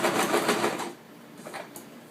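A sewing machine stitches elastic onto fleece with a short, close burst of rapid needle clatter that stops after about a second, leaving faint handling noises.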